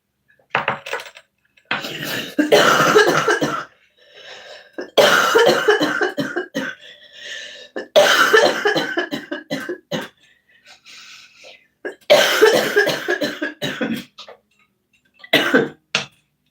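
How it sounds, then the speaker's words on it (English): Repeated harsh, loud coughing fits close up, several bursts separated by short pauses and breaths. "excuse me for any and all coughs"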